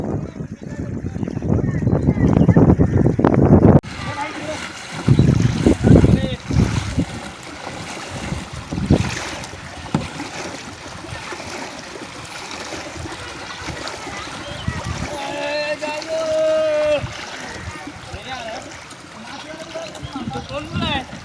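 Rough, churning river water with splashing waves around a boat, loud at first, then a steady wash under voices talking.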